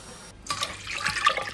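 Water poured into a cast-iron pot for cornmeal mush, a steady splashing pour of about three cups starting after a brief pause, close and moderately loud.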